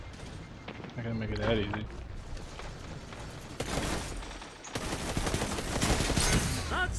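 Rapid hip-fire gunfire from a Destiny 2 shotgun-style weapon, bursts of loud close shots and automatic volleys in a PvP match, with someone talking over the action.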